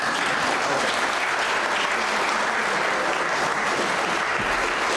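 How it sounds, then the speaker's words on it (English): A hall audience at a political gathering in Oslo applauds steadily, a dense, even wash of clapping that stays loud and unbroken throughout with no talk over it. "Applause."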